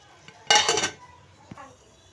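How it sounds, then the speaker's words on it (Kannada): A single metallic clatter of a lid set onto a pot of tomato sambar, followed by a brief softer clink, in a quiet room. "ಇವಾಗ ನಾನು ಮುಚ್ಚಳ ಮುಚ್ಚಿಬಿಟ್ಟು ಕುದಿಸ್ತೀನಿ"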